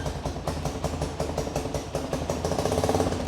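A 2024 Tekken 250 motorcycle idling up close, its engine putting out a steady, rapid, lumpy pulse that stays even and loud throughout, with no talking.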